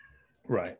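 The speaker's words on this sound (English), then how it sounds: "hear a cat. That's my cat." A pet cat meows once, fairly close and clear, after a short spoken word in a quiet indoor setting.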